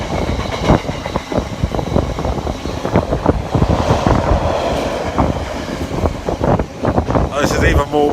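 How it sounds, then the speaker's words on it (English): Strong wind buffets the microphone in rumbling gusts, with a passing train clattering along and voices talking. "This is even more windy than normal."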